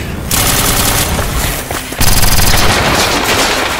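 Loud, dense machine gun fire in an audio drama battle scene, continuous rapid bursts filling the whole stretch with a brief dip in the middle before a heavier volley resumes, close and overwhelming with no voices.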